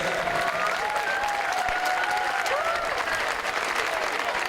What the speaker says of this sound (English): Big applause for the finalists